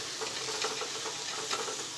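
Fenugreek leaves with green chillies and red chilli powder sizzle in a pan while a spoon stirs and scrapes through them, a close, continuous fry with soft rhythmic stirring strokes and no talking.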